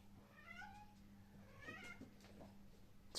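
A cat meows a few times, fairly close, with soft rustling while people build a Lego Simba set nearby.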